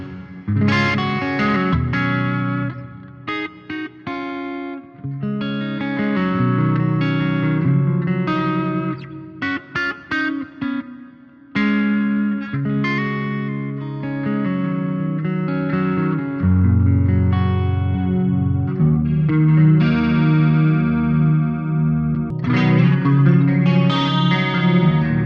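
Electric guitar through a BOSS GT-1000 with stereo reverb, playing chords and single notes that ring out into a washy, spacious tail, with short gaps between phrases and loud, full sustain.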